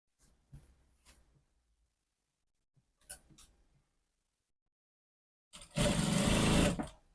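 A sewing machine stitching a trouser seam: a few short stop-start bursts, then a loud continuous run of rapid needle clatter for about a second near the end.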